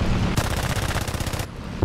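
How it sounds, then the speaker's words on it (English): Rapid machine gun fire from a D.373 fighter plane in a War Thunder realistic air battle: one sustained, evenly spaced burst of shots lasting about a second, loud and close, over steady background engine noise. "Throw some shots at him."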